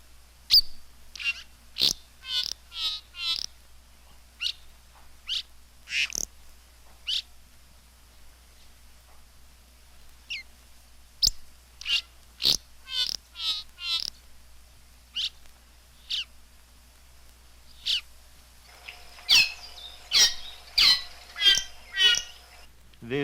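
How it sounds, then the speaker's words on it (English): An African songbird gives a reedy song of short, sharp phrases separated by pauses, first a few yards away and then from within a foot, where the final notes ring louder and fuller. "Here are records of 2 songs, first taken from a distance of a few yards, and then from within a foot or so of the bird."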